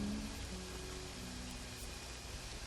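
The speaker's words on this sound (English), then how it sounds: "It's raining in Whiterun." Steady, soft rain in Whiterun in Skyrim hisses evenly in the background, a faint continuous patter with nothing else standing out.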